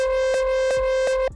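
A sustained tonal hum runs throughout while three evenly spaced rawstyle kick drum thumps, EQ-boosted in the mids, land with a boxy, mid-heavy punch, close and steady.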